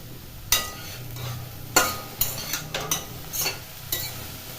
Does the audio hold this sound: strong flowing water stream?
no